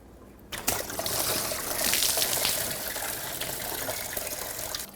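Coolant pours out of a disconnected lower radiator hose on a 2003-2008 Subaru Forester, starting suddenly as a steady close splashing gush that keeps running with no talk.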